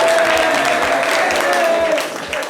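A live studio audience at a daytime TV show claps loudly and continuously, a dense wash of applause with some voices mixed in, dipping slightly near the end.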